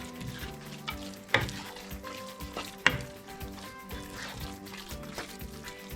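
Chicken haleem stirred with ghee in a pot: continuous thick bubbling and sizzling with rhythmic scraping strokes of a spoon and two sharp knocks against the pot, close and fairly quiet.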